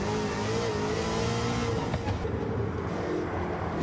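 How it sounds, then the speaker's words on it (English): A Roadster Shop Road Rage Camaro race car with an 800-horsepower engine, its throttle feathered through a corner, gives a loud, continuous close engine roar with wavering revs and rough low rumble. "feathering the throttle to try to keep it under control and limit wheel speed to the minimum"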